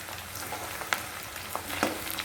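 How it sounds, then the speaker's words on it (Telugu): Battered gherkin (ivy gourd) pieces deep fry in hot oil for a crispy gherkin 65, a continuous close crackling sizzle with a couple of brief pops and no speech. "ఇలా వేయడం వల్ల మొక్కలు అతుక్కోకుండా ఉంటాయి చూడండి ఫ్రై అవుతుంది"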